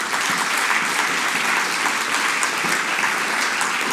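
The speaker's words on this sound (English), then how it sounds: "I'd like to give another round of applause for our panelists tonight." Dense, steady applause from a sizable audience fills the room after a panel discussion, clapping continuously without a break.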